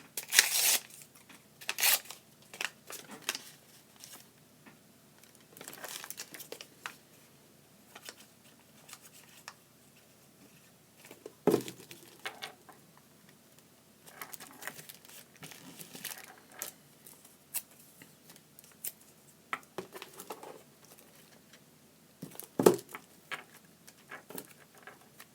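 Paper being handled and torn in short bursts at a desk, with crisp rustles and rips scattered irregularly between quiet stretches, close and fairly faint, no talking.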